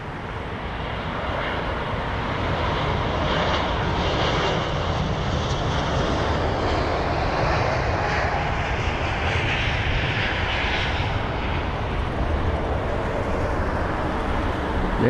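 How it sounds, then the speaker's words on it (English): Bulgaria Air Airbus A220 taking off at London Heathrow: a strong, sustained jet-engine roar that swells slightly and holds steady at close range, with a dense broadband rush and no voices. "There it is, the A220 already rotating."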